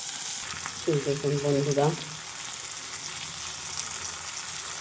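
Poppy-seed stems with tomato fry in a pan, a steady sizzle and crackle running throughout, while someone briefly speaks over it near the start.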